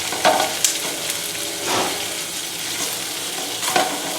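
Onions and peppers stir-fry in oil in a pan, giving a loud, continuous sizzle with occasional scraping stirs and clicks throughout, no voices.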